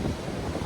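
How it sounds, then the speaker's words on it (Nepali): Wind buffeting the microphone at a seaside pier in Hastings on a cold winter day, a constant low rumbling roar with no voices, close and steady through the brief moment. "हावा चलेर गर्दा चिसो छ।"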